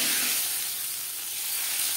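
Hot tempering, tadka, hits a pot of dalia khichuri with moong dal, giving a loud, close, continuous hissing sizzle that fades slightly midway before swelling again, with no voices.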